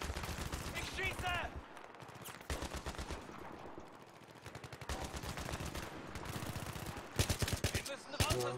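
Bursts of rapid automatic gunfire and single shots in the video game Battlefield 3, loud and close, coming in clustered volleys with brief pauses between them.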